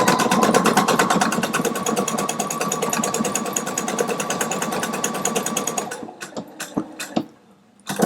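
A Pfaff Quilt Expression 720 sewing machine stitches out a pattern with a fast, steady, whirring needle rhythm for about six seconds, then stops, followed by a few sharp mechanical clicks and near silence.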